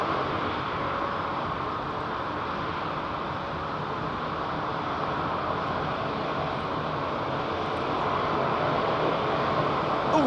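An ATR 72 turboprop airliner approaching London Heathrow gives a steady, broad engine roar that holds at an even level throughout, growing slightly louder near the end, with no voices.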